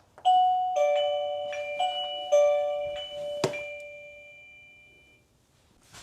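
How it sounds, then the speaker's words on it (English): A Philips smart lock door chime rings a short melodic sequence of clear bell-like tones, close and fairly loud, with a thunk partway through and the tones fading into quiet. "Now let's plug in the door chime."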